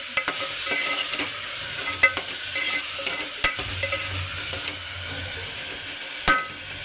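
Chopped green chilies cook in a pan for an ivy gourd gravy curry, giving a steady close sizzle with occasional sharp stirring clinks and scrapes against the pan, with no talk.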